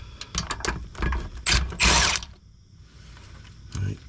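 A hand ratchet works bolts loose from a truck slip yoke on a 1989 Chevy, making close, quick clicking bursts with pauses between them and a short rattle near the end.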